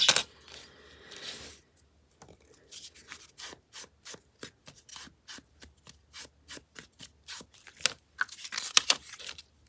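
A metal dustpan scrapes and scoops debris in short, regular gritty strokes, close and fairly quiet. A brief rubbing sound comes first, and a busier rattling burst follows near the end.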